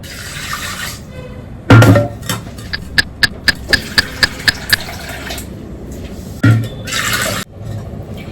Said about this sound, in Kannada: ಈಗ ಇದಕ್ಕೆ ಸ್ವಲ್ಪ ನೀರು ಹಾಕ್ಬಿಟ್ಟು ಬೇಯೋದಕ್ಕಿಡ್ತೀನಿ.